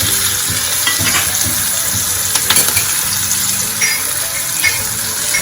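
Sliced spiny gourd and long-cut green chillies fry in hot oil while being stirred, giving a loud, continuous close sizzle with scraping and clattering stir strokes throughout and no speech.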